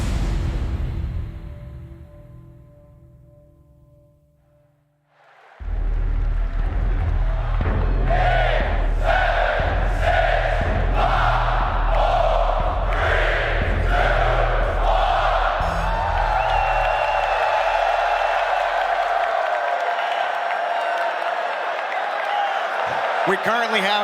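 A packed arena crowd at a Rocket League world championship on Championship Sunday roars loudly and continuously, with rhythmic chanting pulses and whoops, after a brief quieter stretch with a low tone at the start.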